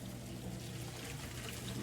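Water is poured off cooked ALDI Fall Harvest pumpkin, squash and cheddar mac and cheese into a strainer, making a steady, close, continuous rushing splash with no talking.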